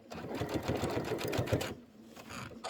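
A home sewing machine back stitches a Kimberbell pillow panel in a fast, steady rhythmic clatter, close and clear, pausing briefly near the end before starting up again.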